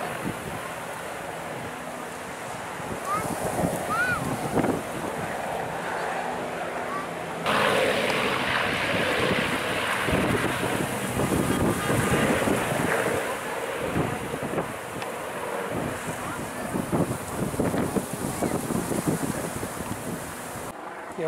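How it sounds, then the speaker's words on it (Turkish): Very strong wind buffets the microphone during an evening wildfire in Datça, a roaring, gusting rush that swells and fades throughout, with a sharp jump in force partway through and muffled voices underneath. "Çok kuvvetli bir rüzgar var"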